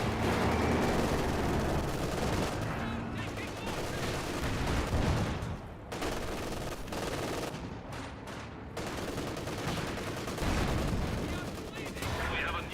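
Dense machine-gun bursts and heavy Panzer IV tank cannon fire in the Company of Heroes 2 video game, a loud continuous battle din with repeated booming impacts and rattling volleys.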